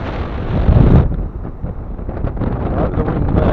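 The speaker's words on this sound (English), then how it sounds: "It's a bit windy down here." Strong wind buffets the microphone on a beach, a loud continuous roar of broadband noise that surges in gusts without pause throughout.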